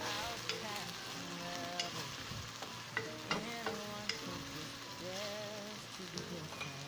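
Chicken and fresh pancit being stir-fried with a splash of fish sauce, a steady sizzle broken by sharp clinks of a utensil against the pan, with no talking.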